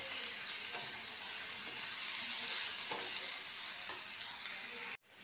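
Chili, turmeric and coriander powders sizzle quietly in a pan while a spoon stirs them, a steady soft frying hiss with occasional light scrapes and taps, cut off abruptly at the end.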